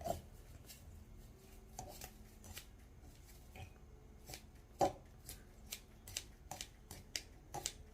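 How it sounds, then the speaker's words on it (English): Scissors snip through dried herbs in a quiet room, a series of soft, crisp cuts at an irregular pace with faint rustling between them, close to the listener and with no talking. "So I just like to go in there with some scissors and just cut it all up"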